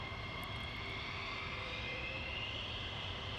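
Military aircraft taxiing at RAF Lakenheath, a steady, distant engine roar and whine that holds level without breaks under open outdoor air.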